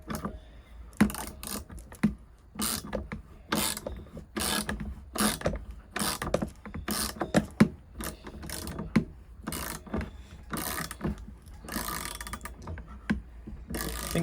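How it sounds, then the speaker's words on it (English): A ratcheting tool winds down to compress the rear shock spring on a Honda VFR400 NC30 motorcycle, giving short bursts of sharp, rapid clicks separated by brief pauses, close and fairly loud, with no talk. "I'm gonna start winding this up and see if this will compress the spring enough that we can slip this bit out."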